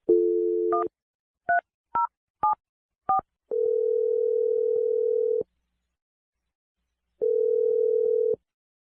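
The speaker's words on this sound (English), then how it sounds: "I'm going to dial his number right now." Telephone dialing: a steady dial tone, then five short touch-tone beeps in sequence, followed by two long ringback tones separated by silence, clear and isolated.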